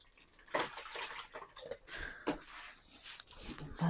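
Ber (jujube) fruit being washed under a running tap, giving a continuous splashing water stream with fluctuating surges and small knocks, close by.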